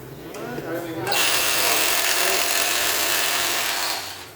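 An impact driver or power drill buzzes loudly as it backs a single screw out of a Honda Click scooter, starting with a short whir and then running steadily near the mic for about three seconds before tapering off.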